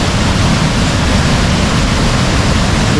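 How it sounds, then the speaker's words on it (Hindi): Kundal Shahi waterfall in the Neelam Valley, Kashmir, roars with a loud, close, unbroken rush of water crashing down from above, filling the scene without any voices. "यहाँ से पानी के फॉल से गिर रही है और पानी का काफ़ी शोर भी है, जो पानी गिरने का है ऊपर से नीचे।"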